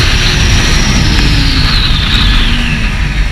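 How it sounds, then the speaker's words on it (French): A Honda CBF 600 motorcycle accelerates hard in first gear, its engine roaring loudly and steadily with a slowly rising whine, buried in heavy wind rush from the ride. "Allez on ouvre les gaz en 1."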